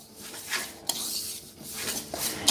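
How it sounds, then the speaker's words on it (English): Apple crisp ingredients mixed in a bowl, a utensil scraping and stirring with intermittent clinks against the bowl, moderately close and without talk. "We mix everything together"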